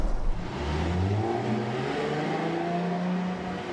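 A 2014 Jaguar F-Type V6 Coupe engine revs up, its note sweeping upward in pitch as it climbs and stays loud and close for a few seconds, with no talking.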